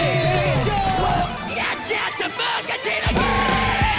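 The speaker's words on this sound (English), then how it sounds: "I love when he screams." A man yells and screams during a stage performance at a BMSG music festival, loud drawn-out cries over crowd cheering and music.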